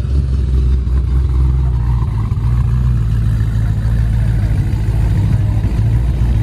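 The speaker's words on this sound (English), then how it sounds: "Hellcat Durango." A Dodge Durango Hellcat at a car show gives off a loud, steady engine rumble, idling with light revving and a continuous low throb throughout.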